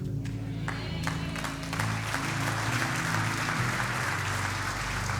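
An audience at a religious talk breaks into applause that swells after a moment and stays sustained, with music playing underneath throughout.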